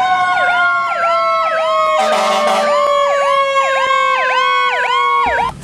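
A toy fire truck siren wails loud and close in rapid repeating sweeps, briefly joined by a buzzy electronic blare partway through.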